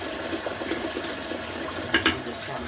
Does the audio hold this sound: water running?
yes